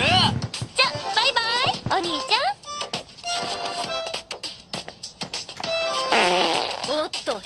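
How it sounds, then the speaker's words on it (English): Fart sound effect in an anime comedy scene, set among animated character voices with whoops, shouts and music. "I farted"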